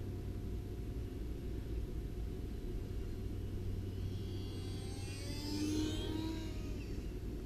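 A UMX Turbo Timber Evo RC plane on 4S power makes a flyby, its faint high electric whine rising and then falling as it passes, over a steady outdoor rumble.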